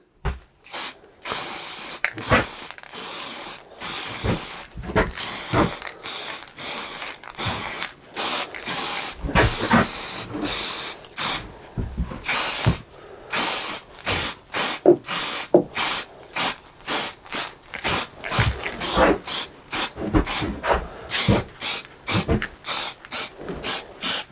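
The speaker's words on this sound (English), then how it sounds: "So now I'm going to spray them." Repeated short hissing bursts of a spray can painting metal van bed brackets, dozens of quick sprays in an uneven rhythm with brief pauses between them.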